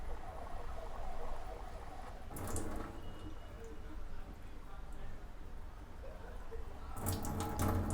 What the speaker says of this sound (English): the moment you open the tap, the water start going down